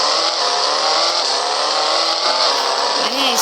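A Jaguar car engine revs loud and close, a steady, dense roar that holds without a break for the whole stretch.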